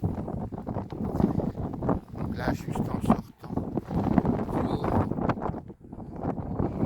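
Gusting wind buffets the microphone outdoors in a continuous rumble under someone speaking.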